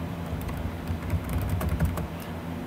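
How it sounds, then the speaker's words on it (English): Steady, close typing on a computer keyboard, a continuous run of quick key clicks with slight bursts and pauses, alone without talk. "So I'm going to type this through there."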